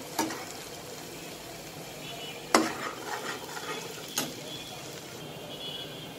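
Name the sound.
garlic frying and being stirred in mustard oil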